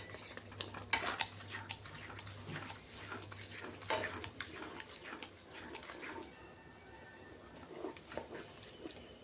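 A pumpkin and jaggery mixture being stirred in a pan, with a utensil scraping and clinking against the metal in an irregular rhythm, fairly quiet and close.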